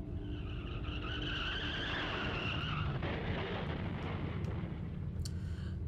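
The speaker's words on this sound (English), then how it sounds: "there was an oddly familiar sound. Another car accident, again, right outside my door." A car crash effect from a horror video game plays out as a long skidding screech of tires with a rumbling impact and crunch, sustained and fairly loud, then trailing into scattered debris clatter near the end.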